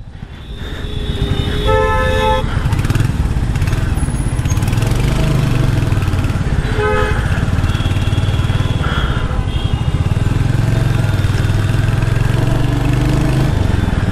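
A Royal Enfield Hunter motorcycle engine thrums steadily and loudly on the move through traffic, a continuous low rumble that rises and falls with the throttle, while car horns toot in short bursts around it.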